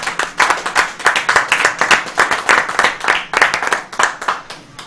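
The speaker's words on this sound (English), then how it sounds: "Clap for Anji." An audience at a speedrunning event claps after a Demon's Souls race, loud uneven hand claps in quick bursts, fairly close, with no voices over them.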